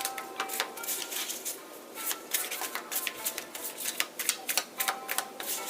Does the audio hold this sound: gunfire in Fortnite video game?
no